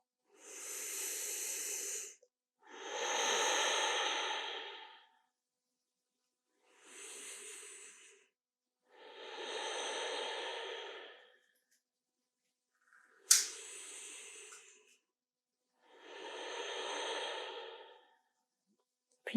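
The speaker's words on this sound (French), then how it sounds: "nous installons Ujjayi pour 3 grandes inspires-expires, uniquement par les narines" Ujjayi yoga breathing drawn through the nostrils, slow ocean-like hissing breaths in a steady series of long inhales and exhales with silent pauses between them, close and soft.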